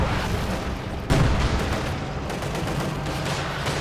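Tank battle in Company of Heroes 2 with a T-34 and a Panzer IV: a sharp, loud cannon blast, then dense rattling gunfire and explosions in a continuous battle din.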